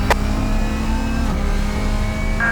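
A Subaru rallycross car finishing its heat revs loud and close, the engine note steady and throbbing with brief sharp bursts, no talk heard over it.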